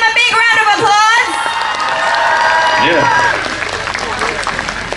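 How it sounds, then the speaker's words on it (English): Dense audience applause with cheers and whoops fills a Diwali show hall in Richmond Hill, Queens, New York, in 2017, loud and sustained, while a voice speaks over the crowd. "Please give them a big round of applause."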